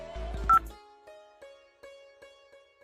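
Telephone number dialed on a phone keypad, a handful of short DTMF tone beeps in an even sequence after a brief louder burst of handling noise, fairly quiet and close.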